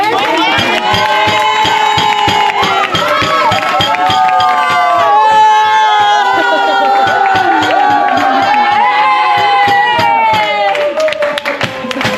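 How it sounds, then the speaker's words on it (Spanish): A loud crowd claps rhythmically and cheers in rowdy celebration at a Supercopa event, with voices shouting and chanting over the steady beat of hands. "ahora sí me vais a dar un aplauso"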